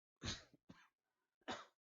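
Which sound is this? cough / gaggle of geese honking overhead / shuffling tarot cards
cough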